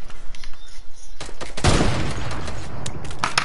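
Rapid gunfire from a PS4 shooter video game, a burst of loud overlapping shots after a quieter opening, continuing densely to the end.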